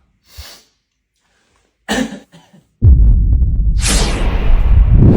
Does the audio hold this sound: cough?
yes